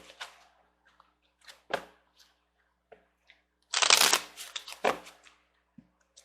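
Angel romance oracle cards being shuffled by hand in scattered soft bursts, with one longer, louder riffle near the middle and otherwise quiet pauses.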